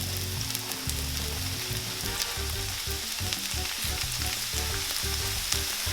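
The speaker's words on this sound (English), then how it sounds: "I like to just drop them in and fry them up a little bit" Strips of empanada dough fry in hot oil with a dense, continuous crackle and bubbling sizzle, loud and close throughout, with no voices.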